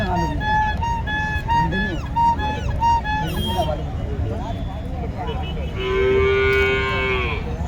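Cattle moo loudly at a bullock market where pairs of bulls are sold, several drawn-out calls rising over steady crowd babble and someone talking close by.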